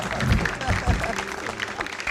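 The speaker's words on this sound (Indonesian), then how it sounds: "Ya tepuk tangan dulu buat Sis yang pengen kaya" Studio audience at an Indonesian comedy quiz show claps briefly while voices talk over the applause, a moderate patter of hands under the chatter.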